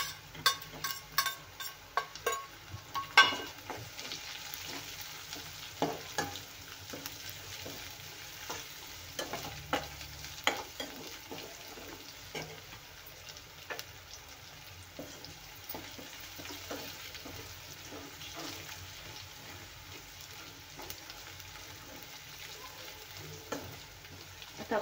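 Green chillies frying in oil with ginger and garlic, a continuous close sizzle punctuated by sharp spoon scrapes and clatters, busier at first and settling into a steadier crackle.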